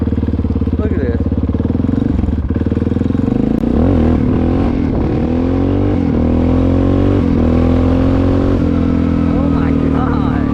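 A Honda XR650 motorcycle engine revs hard and close, repeated throttle blips rising and falling over a loud mechanical clatter, with someone talking over it.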